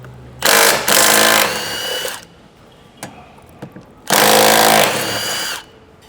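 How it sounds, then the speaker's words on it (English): A power tool whirs in two bursts of about two seconds each while removing a factory tie-down point from a Toyota LandCruiser LC300, with a few small clicks between, close and loud. "I'm going to remove this tie-down point first."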